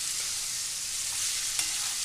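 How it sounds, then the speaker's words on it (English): Sizzling beef in a hot pan during Cantonese cooking, a constant close crackling hiss with one quick sharp pop partway through and nobody speaking. "frying up a little bit the beef."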